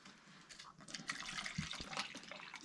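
Mountain Dew Baja Flash soda poured from a bottle into a glass, a steady close fizzing splash and gurgle lasting a few seconds with a bubbly hiss.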